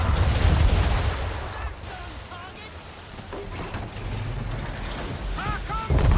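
Ship cannons in Assassin's Creed III fire in a loud, dense burst of booming reports and rumble, easing into lighter crackling with shouted voices and whistling sounds mixed in.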